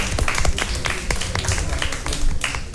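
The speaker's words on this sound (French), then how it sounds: "Est-ce qu'on peut les applaudir?" Scattered hand claps ring out from a small audience at a pageant-style ceremony, uneven and sharp, the separate claps distinct rather than blending into a roar, with little talk beneath.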